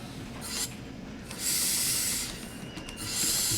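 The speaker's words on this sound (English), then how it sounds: "The brakes just take an absurdly long time to release" Air brakes on a DB BR 628 diesel multiple unit in Train Sim World 6 release in bursts of hiss: a short puff, then a longer sustained hiss and a final hiss, over a quiet low rumble.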